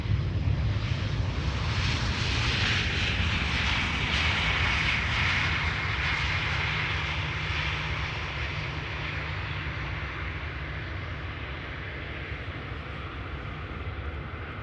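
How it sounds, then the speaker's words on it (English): A Vueling airliner arrives at Amsterdam Schiphol Airport, its engines roaring loud and steady before slowly fading. No voices can be heard. "Vueling, flight 8365, arriving from Malaga"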